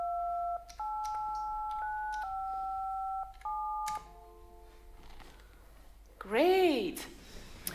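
Telephone keypad tones as a number is entered digit by digit, a run of steady paired-pitch beeps with short gaps, followed by a brief burst of warbling electronic sound at the end.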